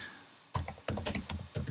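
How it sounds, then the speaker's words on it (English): Typing on a computer keyboard during software entry: quick bursts of close, crisp key clicks after a brief silence, in several short clusters with no speech. "So I will just type in test here"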